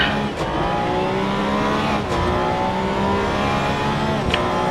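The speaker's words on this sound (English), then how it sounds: "trying to warm up the tires with a little donuts. Not donuts, but wheel spin" A Porsche 911 in the racing game Assetto Corsa EVO at Bathurst spins its wheels to warm the tyres, with a steady loud engine drone and faint tyre squeal, and the revs rise and dip slightly.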